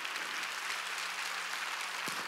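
A church congregation at a Wednesday worship service claps together, a dense, steady wash of applause that holds evenly from start to finish.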